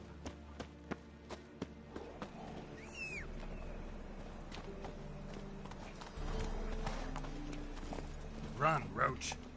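Hoofbeats of Geralt's horse Roach in The Witcher 3, a quick run of clip-clop steps that builds into a heavier gallop, with background game music and a short voice near the end.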